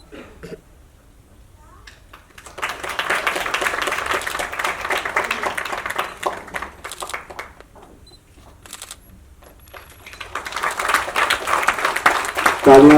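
An audience at an arts foundation-day ceremony in Shimla applauds in two sustained waves, with a brief lull between them and steady, moderately loud clapping mixed with some voices.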